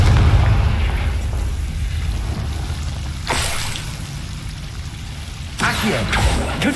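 Confringo spell blasts in the Hogwarts Legacy video game: two sharp bursts, the second longer and louder, over a steady low rumble of game ambience.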